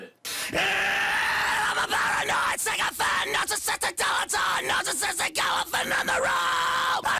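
Screamed rock vocals run through a Decapitator distortion plugin, harsh, loud and dense, with continuous gritty shouting and brief gaps between phrases across about seven seconds.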